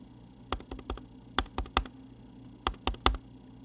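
Typing on a computer keyboard in short bursts of sharp, close key clicks, a quick cluster, then another run and a final flurry, with a low steady hum underneath.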